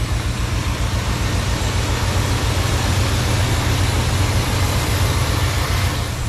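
An old, dented work truck with a Chevy 350 engine runs at a steady idle, a loud, close, throbbing low rumble with an even pulse and no voices over it.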